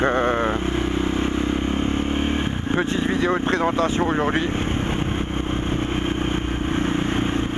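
Motorcycle engine idling and running nearby, a steady low rumble that continues throughout as someone talks over it in French.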